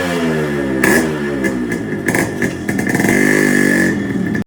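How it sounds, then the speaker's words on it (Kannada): Yamaha RX two-stroke motorcycle engine revving loudly and close, with repeated throttle blips rising and falling over a steady idle, no voices. "ಈ ಸೌಂಡ್ ಕೇಳಿದ್ರೆ RX ಬೆಂಗಳೂರು ತೊಗೊಂಬರ್ಬೇಕು ಗಾಡಿ."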